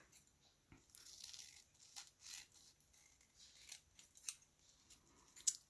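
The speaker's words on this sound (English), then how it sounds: "I'm going to cut again." Scissors cut paper for a tiger collage in a series of close, crisp snips and slicing strokes with small pauses between, quiet and without talk.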